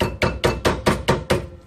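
Seven sharp, evenly spaced hammer taps ring out on a rear brake bolt of a 2006 Nissan Altima 3.5L, each strike crisp and metallic with a short decay, close by and alone.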